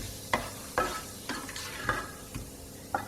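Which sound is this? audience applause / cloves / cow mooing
cloves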